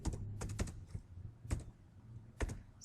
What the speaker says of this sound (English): First I will type student details,